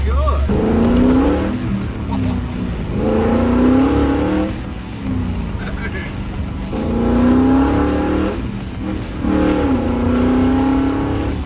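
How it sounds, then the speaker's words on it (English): A 1966 Ford F100 with a swapped Coyote V8 roars through side pipes in repeated revving pulls that rise and fall over several bursts, loud and close, while voices talk over parts of it. "you finished it off with a set of side pipes, which like it sounds so goddamn good"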